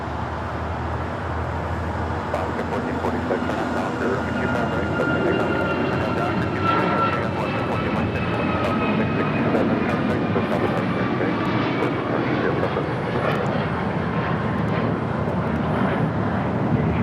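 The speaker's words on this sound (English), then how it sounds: "Also Singapore, the 777-300ER landing up there on the north side and 24 left." A Singapore Airlines Boeing 777-300ER landing at LAX on runway 24 left, arriving from Tokyo Narita, gives a continuous loud roar of jet engines throughout, steady and dense with broadband rumble.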